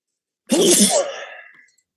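A single sharp sneeze bursts out close and loud after a moment of silence, then trails off into a breathy exhale.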